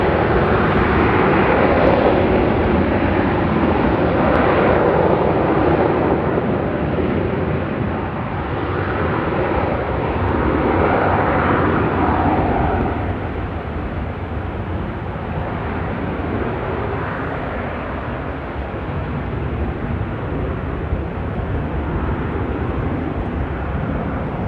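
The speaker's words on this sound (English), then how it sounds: "We've got a flight going out" Airliner taking off at Amsterdam Airport, a loud, steady broadband jet roar sustained throughout and easing slightly as the plane climbs away.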